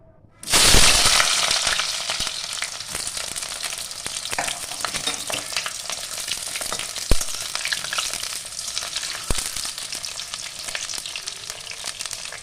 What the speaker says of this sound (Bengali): তেল গরম হয়ে গেছে, এবার আমি পটলটা লাল করে ভেজে নেব।